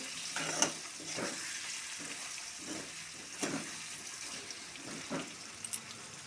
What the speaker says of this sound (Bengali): একটুখানি হলুদ দেবো, নাড়াচাড়া দিয়ে দেবো। একটু লাল লাল করে ভেজে নেব